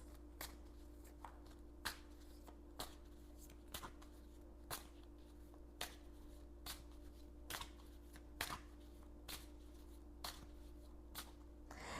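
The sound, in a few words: shuffling oracle cards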